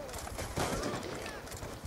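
Gunfire in the video game Black Ops 2, a quick burst of shots over a busy, noisy game backdrop at moderate volume.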